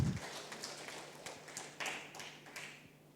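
A church congregation at a worship service claps in a soft, dense patter that carries on for a few seconds. It sounds faint and somewhat distant, with a low hum beneath it.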